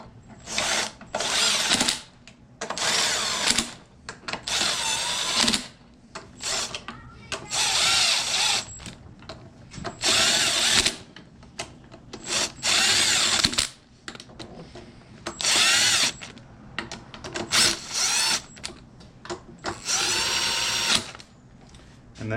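Power drill driving screws during a D15B turbo gearbox 4th gear replacement, whirring in repeated bursts of a second or two with brief pauses, close and loud, with a voice talking between runs.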